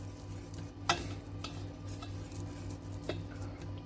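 Whisk stirring roux into cream in a pot for a roasted whole chicken meal, soft steady scraping with a faint sizzle underneath and a couple of sharp metallic taps against the pot, quiet and close.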